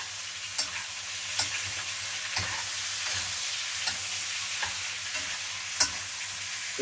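Pork fat sizzling and frying in a skillet, with a steady crackle and occasional sharp pops and stirring clicks close up, no voices.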